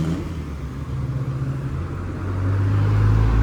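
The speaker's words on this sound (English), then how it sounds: "All right, that was a Toyota hybrid." A Toyota hybrid car passes along a busy Tokyo street, its low engine rumble swelling steadily and growing louder toward the end as it draws near.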